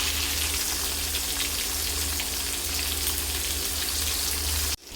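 Eggplant pieces frying in oil in a pan give off a steady, loud, hissing sizzle that continues without a break until it cuts off abruptly near the end.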